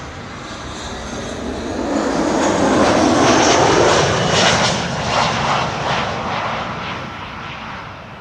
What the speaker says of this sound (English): Hainan Chinese Dreamliner arriving, departing from Brussels